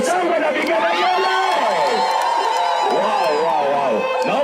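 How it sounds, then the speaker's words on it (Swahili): A crowd at a Kiambu county event with a governor present cheers and shouts in a loud, continuous burst, with high wavering ululation-like cries rising over the din throughout. "Wapi shangwe na vigelegele?"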